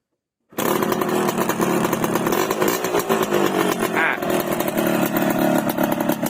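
A Yamaha RXK 135cc motorcycle engine starts up after a brief silence and keeps running steadily, a loud buzzing, close-up drone with no pauses.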